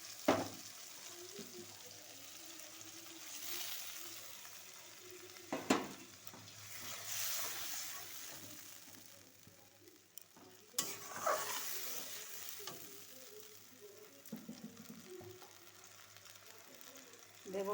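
Ground ginger, cumin and chili paste sizzles softly in a pan for a yogurt pointed gourd dish, with occasional stirring clatter and scrapes over a quiet, continuous fry.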